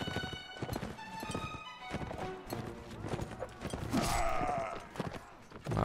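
Cavalry horses in a Mount and Blade Warband battle, hooves clip-clopping in a dense, busy rush amid clashing game noise and a swell of louder action near the end.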